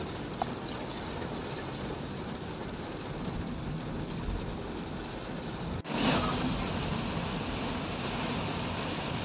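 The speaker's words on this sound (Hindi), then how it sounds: "आवाज़ से ही लग रहा होगा आप लोगों को, बारिश की आवाज़ सुने।" Steady, dense rain noise in Islamabad fills the whole stretch, a constant hiss with a brief louder gust or splash near the middle.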